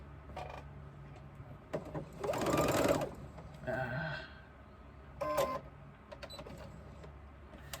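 A sewing machine stitches a 3/8 inch seam across the top of a crossbody bag, running in short bursts of a few seconds each with pauses between, fairly close and moderately loud.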